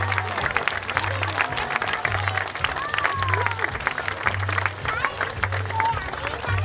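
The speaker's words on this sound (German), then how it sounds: "Applaus für die Toschka und die Conny." An outdoor crowd claps for horse riders at a Winnetou show in Wagram, with scattered applause over a rhythmic low droning pulse and some background voices.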